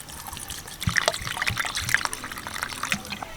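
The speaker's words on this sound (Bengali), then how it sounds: "এর মধ্যে দিয়ে দিচ্ছি কিছুটা জল" Water trickles and splashes into a bowl of old tamarind in a kitchen, a close, steady pour with small gurgling bursts lasting a few seconds, no voices heard.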